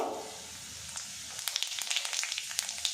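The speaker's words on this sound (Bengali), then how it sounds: "এবার এর মধ্যে কালো জিরে আর গোটা জিরে ফোড়ন দিয়ে দেব" Nigella and cumin seeds drop into hot mustard oil. A low hiss builds into a close sizzle with rapid sharp crackles and pops, and no voices are heard.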